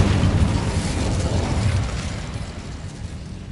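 A fire spell cast in the Hogwarts Legacy video game erupts in a loud, dense burst of roaring flame and rumble that holds steady for nearly two seconds, then eases into a softer crackling tail.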